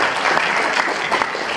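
Applause from an audience at an evening community gathering in a hall, a steady wash of many hands clapping, fairly loud and continuous with no voices over it.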